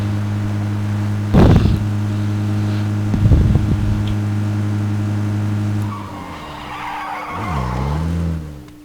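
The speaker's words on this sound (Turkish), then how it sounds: "Bir araç sesi duyuyorum kesiliyor sürekli" A video game car engine drones steadily with sharp bursts of tire skidding, then the engine pitch swoops up and down as the vehicle revs.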